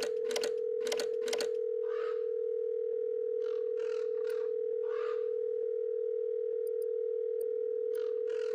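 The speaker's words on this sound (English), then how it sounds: "Seems the keys need to be in sequence to make the ringdinger work." A steady electronic tone from a ringdinger phone in the Biomutant video game runs throughout, topped by a quick burst of three sharp key presses and then several slower, separate key tones, each clear and close.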